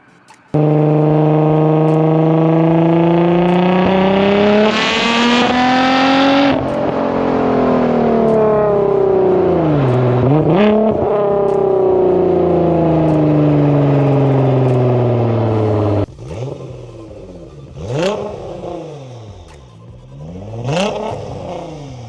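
A Nissan R35 GT-R NISMO road-going race car with full carbon bodywork and a Pexi exhaust, revving loudly and close for a long stretch, rising and falling, then a few sharper blips as the engine settles.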